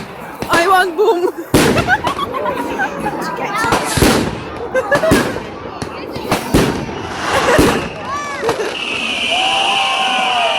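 Bonfire night fireworks over Windermere in the Lake District burst repeatedly, with sharp cracks and booms, whistling rockets and crackling trails, loud and close, while people chatter and exclaim throughout.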